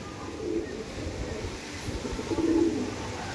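Madrasi pigeons, damp from the rain, give soft low coos in two short bursts against a quiet outdoor background, fairly close but not loud.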